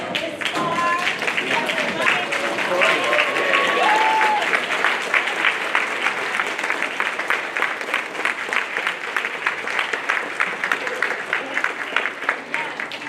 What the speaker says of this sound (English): Can we just stand and applaud all of our graduates for making it this far?